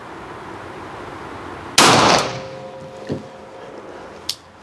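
At an outdoor shooting range, a single loud revolver shot cracks sharply with a decaying tail, followed by a softer metallic clack and a brief click later on.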